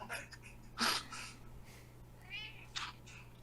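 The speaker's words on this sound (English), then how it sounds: "Oh my god, I hear a cat." A house cat named Speedy meows several times nearby, short bright calls spaced irregularly with soft breathing between them, no talk over them.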